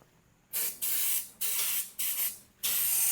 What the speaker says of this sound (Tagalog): Ito natin spray dito.